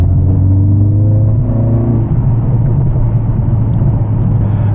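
Mercedes CLA45s AMG four-cylinder engine driving on British country roads after a modification, a loud steady low drone with rising then levelling tones as it pulls through the gears, continuous throughout.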